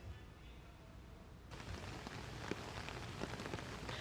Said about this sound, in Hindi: देश के अधिकांश हिस्सों में हो रही बारिश